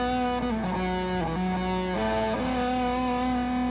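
Electric guitar played through a Vick Audio 73 Ram's Head fuzz pedal, sustained distorted notes with rich harmonics sliding between pitches, loud and continuous with no talk.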